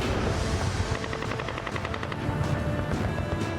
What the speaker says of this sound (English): Randy Romalia and Kenny Thomas now have to run a gauntlet of enemy fire